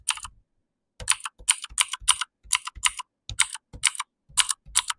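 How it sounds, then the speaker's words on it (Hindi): Mechanical-style keystroke sounds from an ordinary keyboard fitted with a simulated mechanical click effect: bursts of crisp, clacky taps in quick rhythmic runs, a brief pause after the first key, then steady typing, close and alone. "अब आपका कीबोर्ड मैकेनिकल कीबोर्ड की तरह साउंड करेगा"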